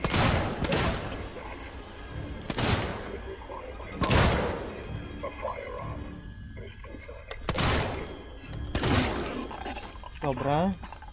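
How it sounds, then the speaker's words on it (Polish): Loud gunshots crack out at intervals, five or so sharp blasts spaced a second or two apart, with a voice talking between them, in the video game Alien: Isolation. "Mam nadzieję, że obcy nie słyszą tych strzałów."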